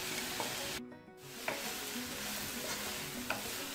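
Vegetables sauté in a hot pan for spring roll and samosa filling, a soft continuous sizzle with a few light scraping stirs, close and fairly quiet, with no voices.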